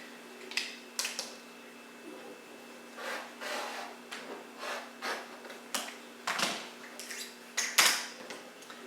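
A rotary cutter or blade slicing diagonally corner to corner across a quilt block of fabric: a series of short, soft scraping swipes and light taps, fairly close and quiet, with no talking.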